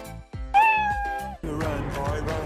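A cat meows in a video game, several short meows followed by a longer drawn-out wail, then a rougher mixed stretch of sound near and fairly loud.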